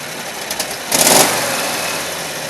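A Predator 670cc engine gives a short rev, then settles into a steady, loud idle heard close up.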